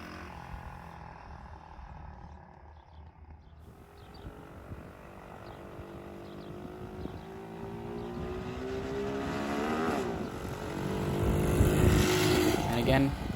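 A custom West Coast Chopper motorcycle pulls away and climbs through first, second and third gear. The loud engine note rises with each gear and builds toward a roaring peak near the end.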